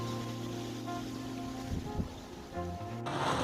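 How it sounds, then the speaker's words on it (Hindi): Heavy monsoon rain falls as a steady, broadband hiss with no break, close and fairly loud throughout, with a burst of louder spatter near the end. "तो झमाझम बारिश होने लग गई है"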